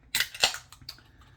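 Beer can cracked open, a sharp metallic snap and hiss followed by a couple of quick clicks, close and crisp.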